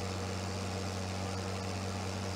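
Tractor engine idling steadily in Farming Simulator 22, a continuous low, even hum with a constant drone and no speech over it.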